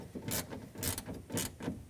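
A mounting nut is snugged onto the rear exterior door handle of a 2000-2005 Ford Excursion, giving three quick ratcheting bursts of clicking, close and fairly quiet with short pauses between.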